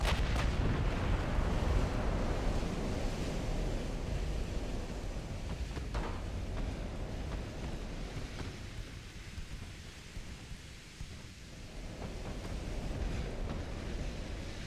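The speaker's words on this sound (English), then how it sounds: "looks like an ammo detonation from a 3-inch shell on a destroyer" Naval gunfire in a WW2-era battleship engagement in Ultimate Admiral: Dreadnoughts, with a destroyer's ammunition detonating: continuous rumbling booms and distant artillery-like blasts rolling over one another, steady and heavy throughout with no voices.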